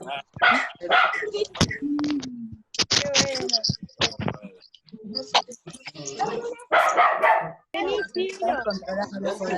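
A dog barks several times at an outdoor bonfire celebration, sharp close yelps breaking through crowd shouting and loud voices.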